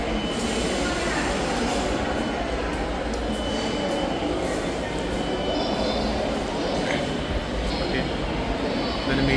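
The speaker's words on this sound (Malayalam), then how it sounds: "ഞങ്ങൾക്ക് പോകാനുള്ള മെട്രോ ബാക്കിൽ വന്നിട്ടുണ്ട്" A Kochi metro train pulls into a station on the way to Mattancherry, giving a steady, loud rumble and hiss that runs through the whole stretch, with murmured voices under it.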